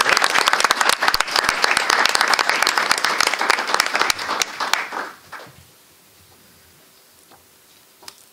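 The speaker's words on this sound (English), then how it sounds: "please give our staff members a big round of applause" An audience applauds staff members at a school gathering, dense clapping that holds steady for several seconds, then quickly dies away into near silence.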